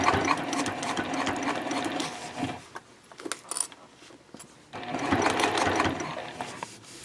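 Sewing machine back stitching across a fabric handle on a packing cube, close rapid needle chatter running in two bursts with a brief pause of clicks and handling between them.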